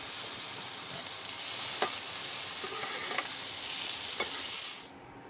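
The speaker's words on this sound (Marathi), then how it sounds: "त्यातच आपण कैरीचे पीस सुद्धा परतून घेणार आहोत।" Raw mango pieces frying in a pan with crushed fennel and red chilli powder, a steady bright sizzle with a few clinks of a spoon stirring, fading near the end, no talking.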